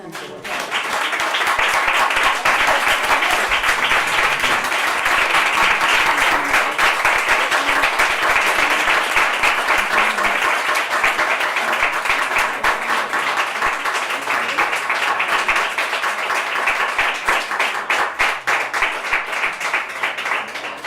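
Sustained, dense applause from a school audience at a flamenco event fills the whole stretch at a steady, strong level, with many hands clapping together and no speech above it.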